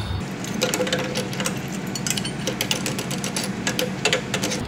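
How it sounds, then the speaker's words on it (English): Drilling into metal with a 3/8 inch bit: a grinding, chattering whir broken by irregular scraping clicks, moderately loud and close. "Switch over to your 3/8 drill bit and drill that here."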